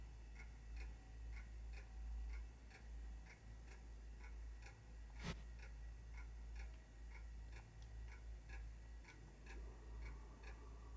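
Old pendulum clock in Spirit Hunter NG ticking in a faint, even, regular beat over a low hum, with a single sharp click partway through.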